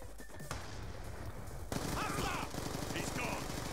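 Gunfire in Black Ops 2 punching through a wall, a rapid automatic burst that grows louder and denser after a quieter opening, with overlapping shots and faint in-game voices underneath.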